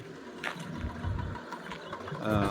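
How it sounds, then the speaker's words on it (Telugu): A tractor drives past on a main road near Anjanadri Nagar, its engine a low, steady chugging rumble at moderate distance that grows slightly louder at the end. "ట్రాక్టర్ పోతుంది కదా చక్కగా, అది నాగోల్కి పోతుంది."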